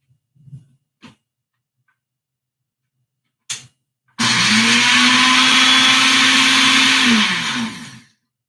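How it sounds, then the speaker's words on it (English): A Ninja blender whipping cream runs loud and close for about four seconds after a few clicks and knocks, its whirring motor holding steady before winding down. "What you do is you blend it a bit, shake it a bit."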